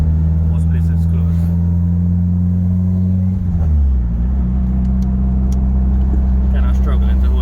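A car driving through evening traffic, a loud steady engine drone close inside the cabin that drops in pitch midway as the car shifts or slows, with faint clicks near the end.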